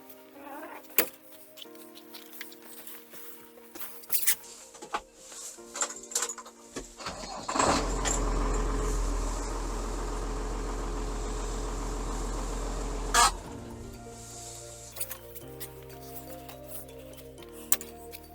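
A 140 hp YTO NLX 1404 tractor's LR6 M523 diesel engine cranks and catches with a loud burst, runs at a steady rumbling idle for several seconds, then settles quieter amid clicks and handling noises.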